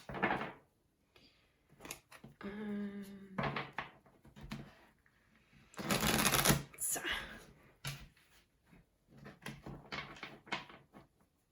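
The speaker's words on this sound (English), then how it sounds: "Let's give a good shuffle to the cards." Tarot cards being shuffled in bursts of papery riffling and slapping, with a brief voice and a tonal sound partway through, the shuffling loudest in a dense flurry near the middle.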